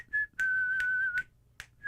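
A person whistles a steady, sustained tone in three or four short phrases, each broken by brief gaps and little breathy accents, close to the listener in a quiet room.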